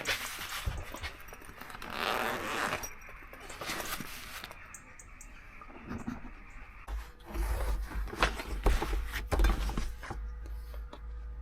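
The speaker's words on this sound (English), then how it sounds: "I can also just undo these little zips for a bit of ventilation" Small zips on a Transit Custom camper van are opened for ventilation. The close, scratchy zipper pulls come in several bursts with fabric rustling between them, and a low rumble joins later.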